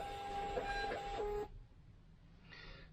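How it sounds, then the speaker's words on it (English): A Munbin thermal printer printing a label, a close, steady mechanical whir with small stepping tones for about a second and a half, then a near-silent pause and a brief faint second burst. "Do all my printing on my thermal printer down here. So I do it through Bluetooth. It's a Munbin printer"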